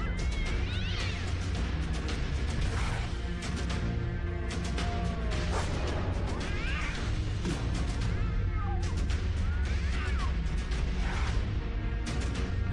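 Several cats face off against a rat, giving loud, drawn-out meows and yowling caterwauls that come in repeated bursts over a continuous noisy background.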